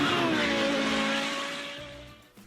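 A track-only hypercar's 5.2-liter naturally aspirated V10 screams at high revs, a loud, bright tonal wail that holds and then fades away.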